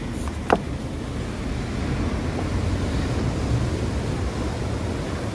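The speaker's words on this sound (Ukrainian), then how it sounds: "що сьогодні дуже хвиля велика для дайвінгу" Large ocean waves break on a rocky New Zealand shore, a steady broad wash of surf and wind noise with one brief knock near the start and no talk.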